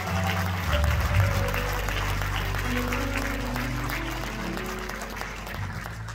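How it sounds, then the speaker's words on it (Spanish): Applause from a congregation at a church worship service, loud and sustained, over a low rumbling hum and some sustained tones in the background. "Algo fuerte aplauso al Señor."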